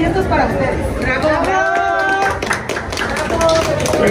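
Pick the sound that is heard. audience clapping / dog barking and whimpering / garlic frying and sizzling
audience clapping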